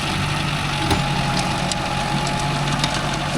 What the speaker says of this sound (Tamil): அப்படியே வண்டி இறங்குது.